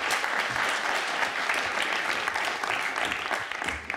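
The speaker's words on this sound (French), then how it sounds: "Applaudissements pour lui, s'il vous plaît" An audience claps for a speaker introduced to talk about underwater kelp forests and algae, a dense, sustained round of applause filling the room at a steady loudness.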